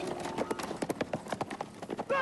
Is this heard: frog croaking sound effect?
no